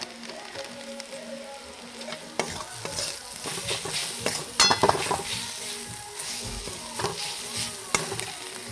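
A spoon stirring salt, turmeric and spices in a sizzling pan of oil, with scraping strokes and clinks of metal against the pan over a soft steady fry, fairly quiet and close.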